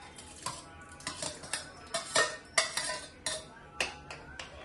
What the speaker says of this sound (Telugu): ఓకే, నేను బాగా మిక్స్ చేస్తాను.